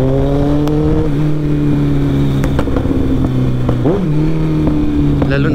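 A Kawasaki ZX-14R motorcycle rides through traffic, its engine droning loudly and steadily in a close, humming tone, with the pitch dipping and rising briefly as it slows and pulls away.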